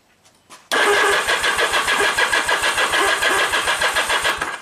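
After a few faint clicks, a small engine with its choke applied abruptly cranks loudly with a rapid, steady rhythmic churn for several seconds without catching, as low battery voltage fails to fire the ignition coil.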